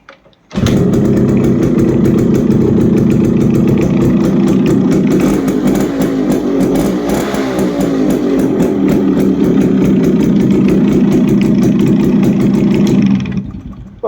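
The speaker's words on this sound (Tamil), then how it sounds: "வண்டியை வந்து நம்ம வந்து ஸ்டார்ட் பண்ணி பார்த்துக்குருவோம்." A restored Yamaha RX 135 two-stroke motorcycle starts and settles into a loud, steady idle that runs close up for over twelve seconds, with a slightly uneven burble, then cuts off.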